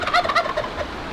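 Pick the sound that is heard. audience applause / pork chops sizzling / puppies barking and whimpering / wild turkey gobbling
wild turkey gobbling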